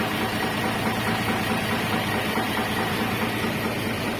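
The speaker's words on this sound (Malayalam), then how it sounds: "ഇനി ഈ ബോട്ട് ഞങ്ങളെ അക്കരെ കൊണ്ടാക്കണം." A boat engine idles at a river ferry crossing, giving a steady, continuous low rumble with a gentle vibrating drone that holds an even level throughout, with no voices.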